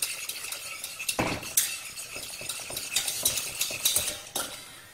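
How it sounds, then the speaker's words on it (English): Whisk or spoon scraping and clinking quickly around a pan as milk is stirred vigorously into a roux-based sauce for smoked haddock soufflés; busy, close, rhythmic stirring with no voices. "we just add about a third of the milk and stir vigorously."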